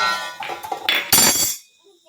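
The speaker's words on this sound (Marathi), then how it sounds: "ह्याला ना माझी भांडी एक राखत नाही, सगळी खेळणी करतो" Metal kitchen pots, pans and utensils clatter and clink in short bursts as a small child plays with them at home, loud and close, with a brief busy cluster before it stops; a voice is faintly present.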